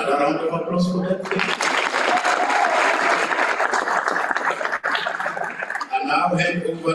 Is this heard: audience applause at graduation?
yes